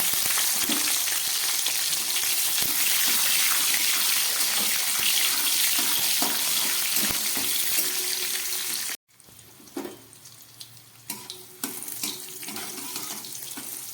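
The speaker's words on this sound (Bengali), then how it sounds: "ক্যাপসিকামটা খুব ভালো করে ভাজা হয়ে গেছে।" Capsicum pieces fry in a pan with cumin seeds, making a steady dense sizzle with a few clicks from stirring, then dropping abruptly to a softer, patchier crackle.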